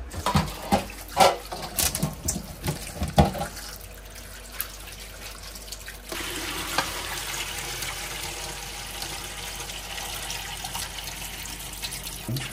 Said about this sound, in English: I go wash off them here